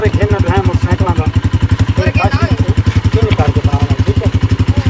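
A Honda CG 125 motorcycle engine, a 2020 model, idles close by with a loud, steady, rapid thumping beat and a rattly mechanical edge, with voices heard under it.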